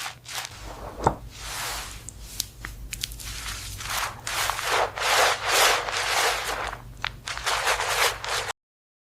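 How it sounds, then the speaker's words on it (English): Hands rub a bar of soap into a foamy lather close up, giving wet, squishy rubbing strokes in a loose, repeating rhythm with no talking. "Let's make some nice foamy lather with this beautiful soap."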